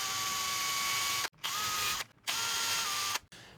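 A drill with a 5mm bit bores gently into a guitar body, three short steady whirring runs separated by brief stops, close and alone.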